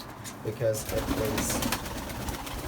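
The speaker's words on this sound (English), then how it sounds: "that's the pigeons here" Fantail pigeons coo in low, soft bursts close by, indoors on a windy day, with a voice speaking briefly over them.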